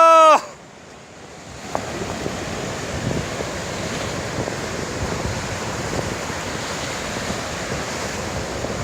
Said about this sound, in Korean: 파도가 나를 잡아먹을 듯이 아주.